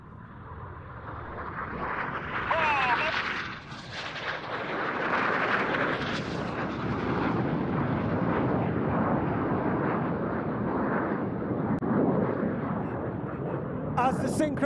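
A pair of RAF Red Arrows jets crosses in a synchro opposition pass at the RIAT 2024 airshow, a broad roaring rush that swells and sweeps past. It stays loud throughout under crowd and commentary noise.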